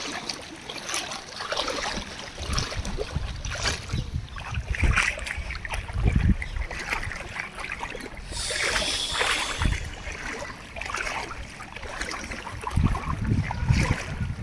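Continuous rushing and splashing of floodwater after a downpour in Guntur, steady and fairly close, with occasional heavier sloshes and gusts of wind noise.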